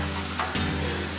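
Ground beef browning in a pan on the stove for chili gives a steady, close sizzle with a soft clatter about halfway through, and no one talks over it.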